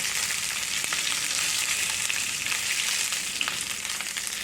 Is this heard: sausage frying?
yes